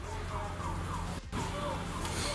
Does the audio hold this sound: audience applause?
no